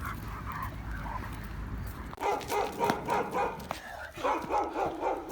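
A dog barks on a street, a quiet stretch giving way to a run of sharp, repeated barks close by, with faint voices in the background.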